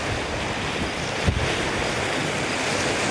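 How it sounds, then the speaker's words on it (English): Ocean surf breaking on a shore near tall grass and driftwood, a steady broadband wash of waves with wind buffeting the microphone throughout and one brief louder thump partway through. "Crashing waves, a little bit of wind"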